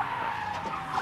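A car skids in the video game Life is Strange 2, a loud, continuous tire screech holding steady for about a second, with no talk over it.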